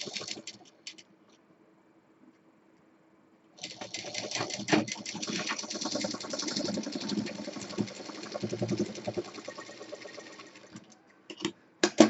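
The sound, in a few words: sewing machine stitching a bag handle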